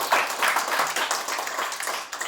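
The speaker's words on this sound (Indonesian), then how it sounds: "Berikan tepuk tangan dulu." A church congregation claps together during a sermon, a dense burst of applause from many hands, fairly loud and close, holding steady before tapering slightly at the end.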